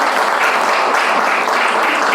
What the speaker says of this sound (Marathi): एकदा जोरदार टाळ्या